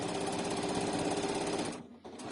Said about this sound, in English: And I'm sewing down.